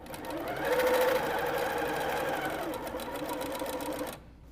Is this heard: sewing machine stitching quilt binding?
yes